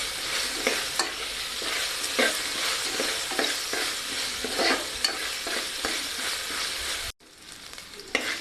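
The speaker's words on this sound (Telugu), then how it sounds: "సాల్ట్ వేసుకున్నాక కూడా మళ్ళీ ఒకసారి కలుపుకుందాం." A tempering of green chillies and salt sizzles in a pan, close and steady. Regular scraping strokes from stirring run through it, with a short break near the end.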